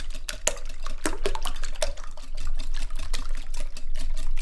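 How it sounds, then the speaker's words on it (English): Eggs being whisked in a bowl for a carnivore quiche, a rapid continuous clatter of a whisk against the bowl with wet sloshing, steady and close throughout. "Okay, you're gonna whisk all your eggs."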